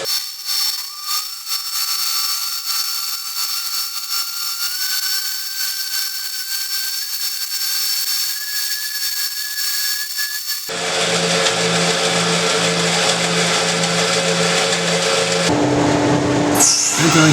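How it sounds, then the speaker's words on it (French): A woodworking power tool rounds the corners of false tenons for a writing desk, a continuous high whine that shifts abruptly to a louder, rougher cutting roar partway through, then a final change in pitch. "je débite mes faux tenons et j'arrondis les angles"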